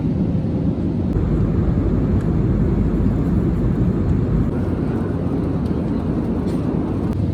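Steady, loud broadband roar of an airliner cabin in smooth cruise flight on the way to southern Spain, a continuous low rumble and hiss with no voices.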